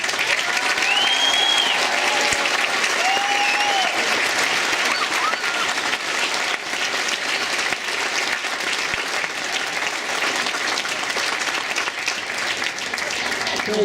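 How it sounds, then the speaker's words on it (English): At an outdoor 2018 Oregon Tech graduation ceremony in the Portland area, a large crowd applauds graduates' families with loud, sustained clapping, and a few voices and cheers ring through for over ten seconds. "please join me in a round of applause for the families now"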